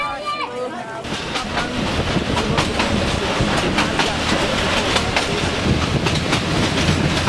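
A train runs along old rails in Madagascar, a loud continuous rumble with rhythmic clacking wheels and rattling carriages, close by, while a voice talks over it.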